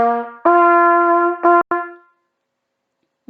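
A brass instrument plays a short phrase of sustained notes, starting low, then a long held tone and two quick clipped notes, close and clear, ending in silence.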